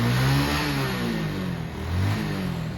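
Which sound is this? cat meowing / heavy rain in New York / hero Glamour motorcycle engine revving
hero Glamour motorcycle engine revving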